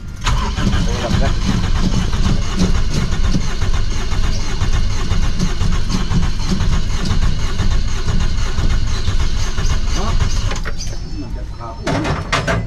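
An engine that had been misfiring and starved of fuel cranks, catches and keeps running with a loud, rough mid-pitched rumble, then eases slightly near the end. Voices talk over it throughout.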